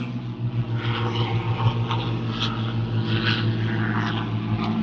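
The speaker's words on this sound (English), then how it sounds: "Let's see it coming into land." A four-engined Lancaster bomber with propellers comes in to land in pouring rain, its steady droning roar continuous and fairly loud throughout, with slight swells in the engine note.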